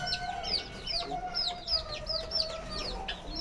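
Chickens clucking in a backyard coop kept alongside pigeons and quails, with a steady run of short, bright, chirpy calls repeating close by over faint farmyard background.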